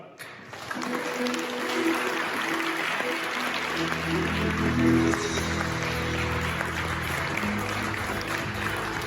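Audience applause at a Hyundai Motor Group next-generation hybrid system technology presentation, a steady, dense wash of clapping that swells slightly midway, with faint low music tones beneath.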